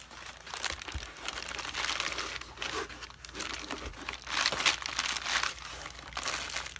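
Packaging for a stainless steel sous vide cooker being pushed back into its box, with irregular bursts of crinkling and rustling close up and no talking.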